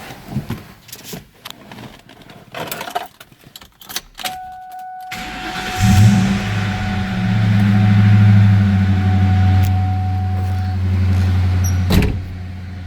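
A 2004 Ford Mustang Mach 1 cranks with some clicks and a chime, then its V8 fires and settles into a loud, steady rumbling idle close by.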